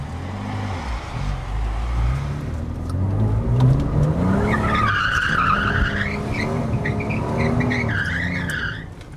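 A Lamborghini spins in a tight circle, its tires skidding and squealing in a long continuous screech as the engine revs and rises in pitch, loud and close with no talking.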